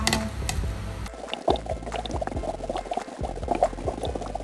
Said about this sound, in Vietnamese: Xong rồi mình tiến hành là mình đi luộc hủ tiếu.